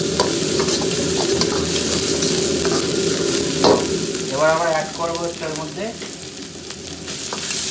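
Crispy corn with chopped green chili sizzles steadily in a hot pan while a spoon stirs and scrapes through it, loud and close with no voices.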